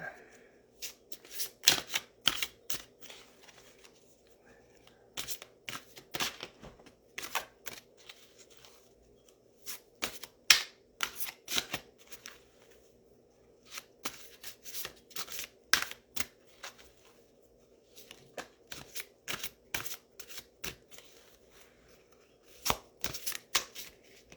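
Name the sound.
tarot cards being shuffled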